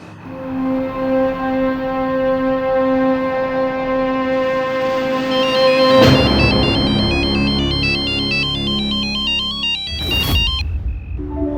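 A melodic phone ringtone plays continuously, its tune shifting partway through, loud and close with a brief sharp noise near the end.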